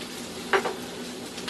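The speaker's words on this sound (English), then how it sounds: "We got the onion frying now" Onions frying in a pan while being stirred on a home cooking show, a soft steady sizzle with a brief louder burst of stirring scrapes near the start.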